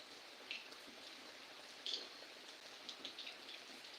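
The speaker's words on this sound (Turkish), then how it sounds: "Edirne'nin Elçili Göğü'ne beklenen yağmur geldi" Faint, steady rain hiss in Edirne with a few scattered louder drops pattering nearby.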